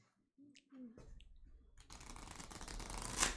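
Tarot cards riffled in a quick shuffle, a dense papery rustle and flutter building over a few seconds and ending in a sharper crisp burst, with brief faint sounds before it.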